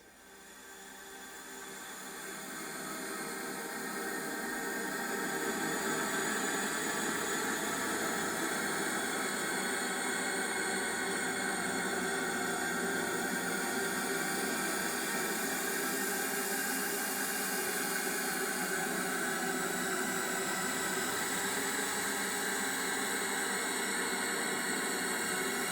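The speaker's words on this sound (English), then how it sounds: "And the third one, I call this my glass pad." A synthesized glassy, atmospheric pad built from harmonic tones and noise swells in over the first few seconds, then sustains as a dense, bright, slowly evolving wash with no voices.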